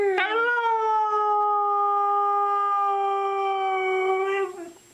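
A single dog lets out one long, steady, tonal howl from close by that holds for several seconds and then trails off, with no one talking over it.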